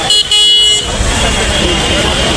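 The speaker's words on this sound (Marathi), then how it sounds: "गाड्या तर गाड्या बंदच नाही" Busy Mumbai street traffic near Azad Maidan in the rain, with a loud car horn tooting at the start, then a dense roar of passing vehicles as someone talks nearby.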